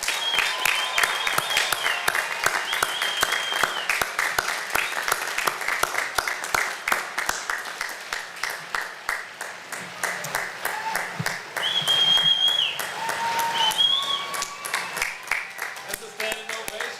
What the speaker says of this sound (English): can I get another round of applause for these new commissioned officers?